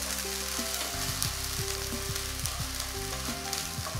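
Garlic-ginger paste frying in a pan for spicy chicken meatball gravy, a steady close sizzle with soft scraping stirs running throughout, no voices.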